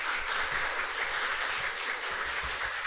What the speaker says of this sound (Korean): 그런 의미로 우리 박수로 그렇게 환영하도록 하겠습니다